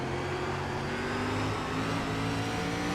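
A race car engine at South Boston in the SRX racing game, a steady loud droning roar with held throttle and a slight rise in pitch, continuous and alone with no talk.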